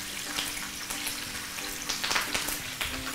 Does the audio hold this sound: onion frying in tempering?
yes